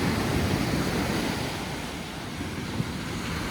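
Ocean waves break on a wild Dominican Republic beach in a steady, loud roar of surf, with wind buffeting the microphone throughout and no voices.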